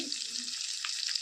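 Green chillies frying in a pan with turmeric added give off a faint, steady sizzling hiss over a brief stretch, with no voices.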